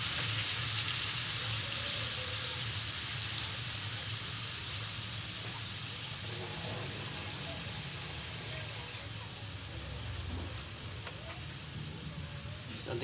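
Water poured into a pan of adobo simmering with soy sauce, a soft steady splashing and sizzling hiss that runs close throughout.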